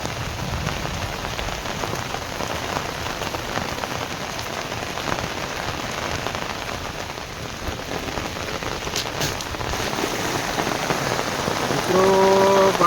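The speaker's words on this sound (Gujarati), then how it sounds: "આવો વરસાદ ચોમાસામાં નથી આવતો." Heavy unseasonal rain pours steadily onto surfaces, a dense continuous hiss close by that swells slightly louder toward the end, with no voices.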